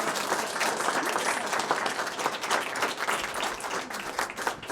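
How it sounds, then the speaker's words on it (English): A live audience at a podcast panel held at a PR firm's headquarters claps loudly. The applause is dense and continuous, lasting nearly five seconds with no pause. "if we could give a huge round of applause to our"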